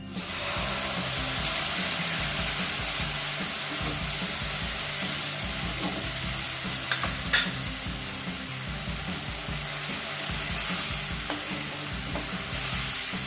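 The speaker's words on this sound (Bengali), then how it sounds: "সেই জন্য আমি সর্ষে পোস্তটাকে একটু তেলে ভেজে নেব" Poppy seed and mustard paste mixed with turmeric fries in oil with a continuous close sizzle, while a spoon stirs with soft scrapes and an occasional sharper knock.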